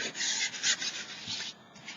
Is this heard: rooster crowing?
no